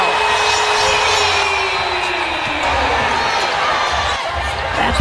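Basketball arena crowd cheering loudly and steadily throughout a professional women's game between Indiana Fever and Portland Fire, a dense roar of voices with whoops rising over it.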